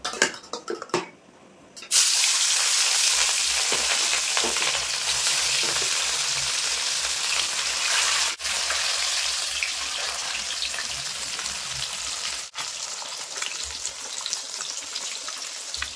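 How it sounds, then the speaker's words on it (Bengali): Fish pieces dropped into hot mustard oil in a kadai, a sudden loud burst of sizzling that settles into a dense, steady hiss and crackle with a couple of brief clicks, no speech. "মাছ ভাজার জন্য কিন্তু তেল খুব ভালোভাবে গরম হয়ে গেছে। এবার মাছের পিসগুলো দিয়ে দেবো।"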